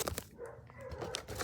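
A dog barks and yips nearby in a home, several short sharp barks and whimpery vocal sounds across a brief moment, fairly close and moderately loud.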